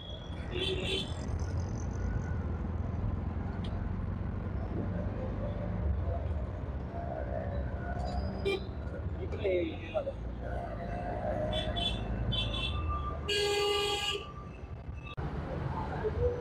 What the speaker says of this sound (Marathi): बघा पुण्याचे ट्रॅफिक, बघा ट्रॅफिक